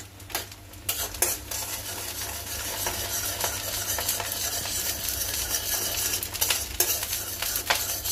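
Chopped garlic frying in a pan while lunch is cooked, loud close sizzling with frequent scraping and clattering strokes of a spoon against the pan throughout.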